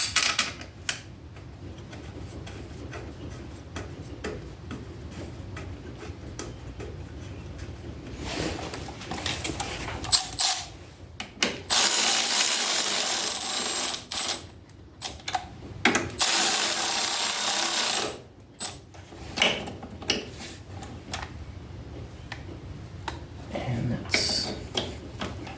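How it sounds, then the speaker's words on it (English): Screws being driven back into the intake of an Ariens/Husqvarna garden tractor engine, with intermittent ratcheting and tool clicks, handling noise and a couple of longer louder bursts of mechanical whirring in the middle, close and moderately loud. "on the intake side here, just put these two screws back in."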